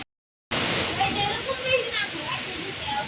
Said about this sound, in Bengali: দেখেন কেমন ঝড় বৃষ্টি